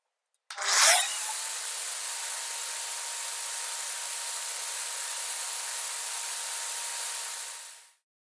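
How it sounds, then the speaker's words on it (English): An inoXpipe pipe beveler's milling head runs steadily, a loud continuous mechanical whine and cutting hiss that starts with a sharp rise, holds level for about seven seconds, then winds down alone. "turning on the machine and using the depth of cut adjustment screw, gradually advance the milling head toward the workpiece"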